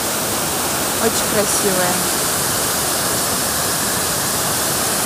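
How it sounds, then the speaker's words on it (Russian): Small waterfalls in Bosnia and Herzegovina roar as a steady, loud broadband rush of falling water, with someone speaking briefly over the noise. "Красивые водопадики, очень миленькие."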